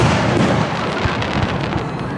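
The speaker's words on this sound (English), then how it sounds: "Fireworks." Fireworks explode in a dense, continuous rumble of overlapping bursts and crackles, loud and sustained with no clear gaps.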